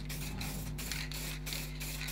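Aerosol varnish sprayed onto a plywood crook stick in a workshop, a steady close hiss pulsing in short repeated bursts over a low hum, with no talking.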